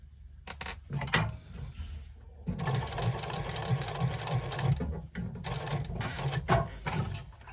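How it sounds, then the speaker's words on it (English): A sewing machine stitches a quarter-inch seam on a fabric wristlet, starting with a few short stuttering bursts, then running in two longer steady whirring stretches with a brief stop between, close and moderately loud, no talking. "match your ends together and sew 1/4 inch seam on that"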